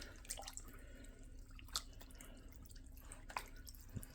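Water drips from a Wilson DP15 baseball glove after it has been dipped in water, a few faint scattered droplets and small splashes, quiet and close, with no one speaking.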